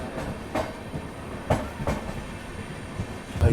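The Amrit Bharat Express running on rails between Banaras and Sealdah, a steady rumbling roll heard from inside the coach, with rhythmic clickety-clack wheel beats recurring every half-second or so.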